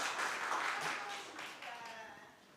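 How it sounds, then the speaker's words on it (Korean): A congregation at a Korean Won Buddhist Sunday service claps in welcome, a dense patter of many hands that starts loud and slowly thins over a couple of seconds. "네, 큰 박수로 환영 부탁드리겠습니다."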